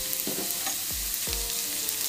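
Mustard and fenugreek seeds sizzle and pop in hot oil as a tempering for sambar, with a few sharp crackles and low thumps over a steady frying hiss.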